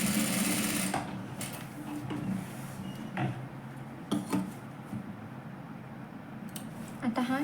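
A sewing machine stitches a katori blouse at home, its steady mechanical whir running throughout with occasional clicks and fabric handling, close and continuous.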